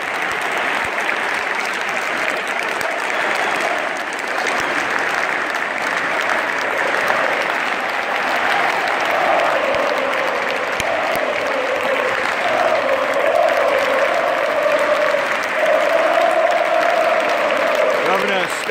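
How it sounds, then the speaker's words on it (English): A football stadium crowd at an Everton versus Hajduk Split match applauds steadily and loudly for the whole stretch, a dense wash of clapping with voices and cheers mixed through it. "can't not clap, can I?"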